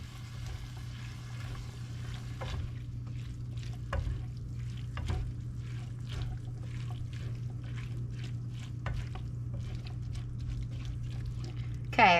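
Rinsed black beans and a can of Rotel with its juice being stirred together in a warming pan, soft scraping and gentle sizzle with a steady low hum, occasional spoon knocks and a brief clatter at the end.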